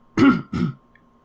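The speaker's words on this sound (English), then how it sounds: "I'm gonna clear my throat." A man clears his throat during a gaming podcast, two short, loud, close rasping bursts in quick succession, then silence.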